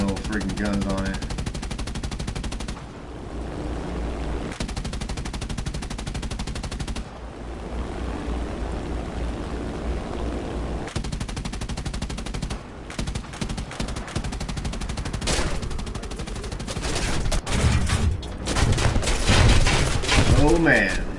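Rapid, sustained 20 mm cannon fire around a B-17 bomber in a flight combat video game, a dense loud rattle that continues through most of the stretch with brief lulls and a heavier surge near the end, with a voice speaking over it.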